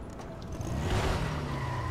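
A car in the video game Dying Light The Following squeals after being kicked, a short, fairly faint screech over a low rumbling engine backdrop.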